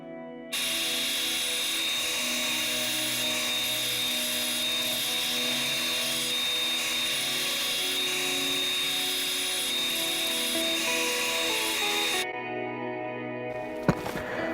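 Steady, continuous whirring grind of a power sander smoothing a yew wood heart, running for several seconds at close range, then stopping abruptly near the end.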